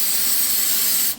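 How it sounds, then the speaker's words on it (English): Brake cleaner sprayed onto car parts during a Honda Civic build, making one loud, close, continuous hiss that cuts off after about a second. "I'm just gonna brake clean them off"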